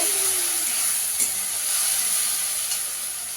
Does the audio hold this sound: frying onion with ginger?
yes